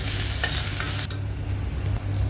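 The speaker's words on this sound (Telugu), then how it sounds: "ఈ తాలింపు మాడిపోకుండా మరి వేయించుకుంటూ ఉండాలండి" A tempering with coriander leaves frying in hot oil in a pan, a loud steady hissing sizzle with brief scraping strokes of stirring, close up and with no voices.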